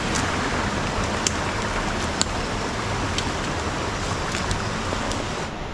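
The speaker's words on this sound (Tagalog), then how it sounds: "Medyo malakas po yung ulan sa gabi, oh." Heavy, steady rain pours down at night in a constant dense hiss, with occasional louder drips and taps standing out against the roar.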